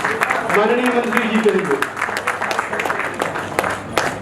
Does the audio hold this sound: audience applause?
yes